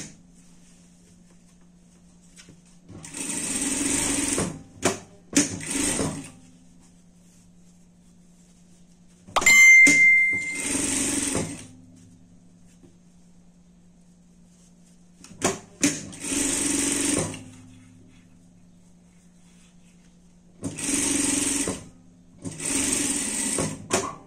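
A sewing machine stitches a double-sided pet bandana in four or five short runs of rapid, whirring stitching, close and clear, separated by quiet pauses and faint handling noises.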